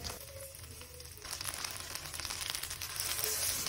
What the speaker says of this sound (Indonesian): Goreng lumpianya sih bentar aja, cepat garing, nggak perlu lama-lama juga ya teman-teman.